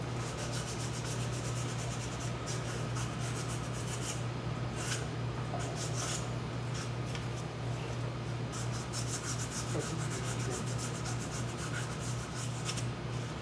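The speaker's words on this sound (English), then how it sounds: "I'm just gonna take and hit this with some 220. Sandpaper. Clean that up a little bit." A small lidded wooden box is sanded by hand with 220-grit sandpaper, giving a continuous close scratchy rubbing with a steady low hum beneath and no voices.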